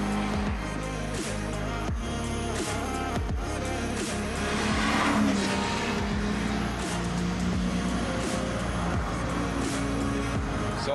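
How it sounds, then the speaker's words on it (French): A Porsche Boxster's flat-six engine drones steadily from inside the moving car, with a brief swell in the middle as the tires hum along the road. "le flat 6 du Boxster, c'est quand même quelque chose de sympa"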